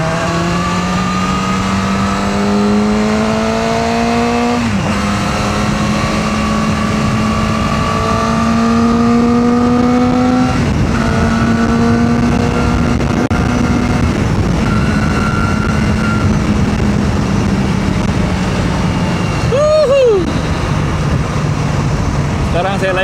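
A Kove 450R motorcycle ridden hard in sport mode, its engine droning loud and close with rising and falling revs through gear changes, and a rider talking over the steady roar.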